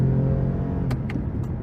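A 2023 Toyota Camry TRD V6 engine droning loudly from inside the cabin, with a brief rev and a few quick shift clicks during manual gear changes.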